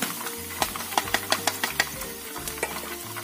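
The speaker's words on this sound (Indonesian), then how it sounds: "Sudah selesai, dan kita goreng semuanya" Food frying in hot oil for an Indonesian soup dish: soft, close sizzling with a string of sharp crackles and pops, plus a faint low hum underneath.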